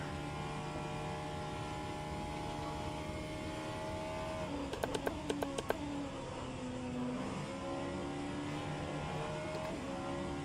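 Vanwall hypercar engine in the rFactor 2 racing game at Road America, a steady droning whine with shifting pitch that sweeps down and back up, a burst of sharp clicks midway, running continuously throughout.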